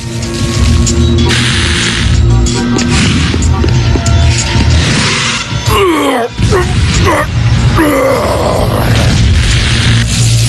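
Energy Man, overloaded with energy, blows up in a Spider-Man cartoon: a loud, booming blast with crackling static and warbling swoops, continuous for several seconds.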